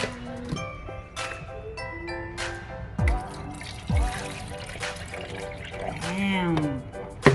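Water pours and trickles into a Nespresso coffee machine's reservoir, with splashy drips and a rising gurgle at close range.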